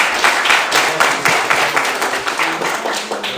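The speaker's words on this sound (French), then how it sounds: "On peut l'applaudir pour accueillir." A church congregation applauds to welcome a member, steady dense clapping filling the room throughout with no voices on top.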